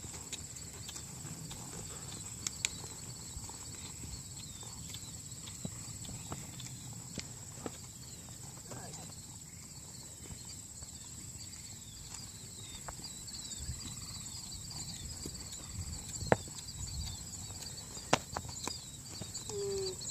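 A horse's hooves thud in a steady rhythmic clip-clop as it lopes during a training session, fairly faint and distant under low outdoor ambience.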